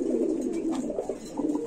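Satin pigeons coo in a soft, continuous, low murmuring rumble, close by, with no other sounds.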